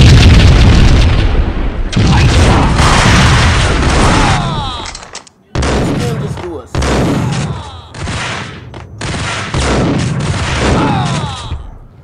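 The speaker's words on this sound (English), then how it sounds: "I'm trying to figure out where the gunshots are coming from." Gunfire in the video game Max Payne Mobile: loud, dense bursts of shots and booming impacts crowd the scene, broken by brief gaps, close and overwhelming.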